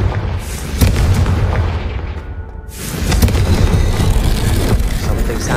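Confringo spell blasts in Hogwarts Legacy, booming explosive bursts with a loud opening impact and a dip in the middle, then renewed rumbling blasts.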